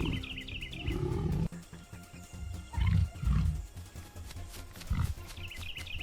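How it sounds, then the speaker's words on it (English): Lions in the wild, during a clash between a lion pride and buffaloes, give several deep guttural roars and grunts in bursts, loud and near, with a high bird call at the start and end. "The air fills with the terrifying, guttural roars of challengers, a sound that signals the end of safety for the young and the weak."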